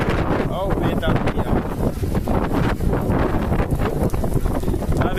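Strong wind gusting in Maceió with heavy rain, a constant loud roar buffeting the microphone throughout, rustling and rushing with no clear pauses.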